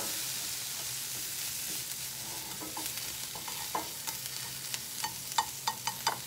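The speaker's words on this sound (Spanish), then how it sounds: "porque hay que freír la cebolla" Onion frying in a pan for spinach and egg in green sauce, a soft steady sizzle with stirring taps that grow sharper and more frequent toward the end, close and moderately quiet.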